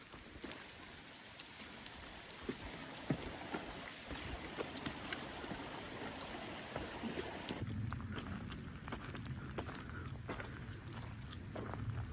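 Rain falls steadily along a mountain section of the Allegheny Trail, a broad continuous hiss with scattered drops and patters. The wash thickens and deepens in the last few seconds, with no one speaking.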